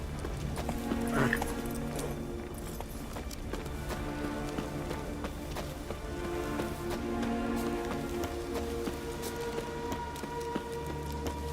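Roach, a horse in The Witcher 3, gallops steadily with rapid rhythmic hoofbeats throughout, under a game music and ambient bed, with a brief whinny-like burst early on.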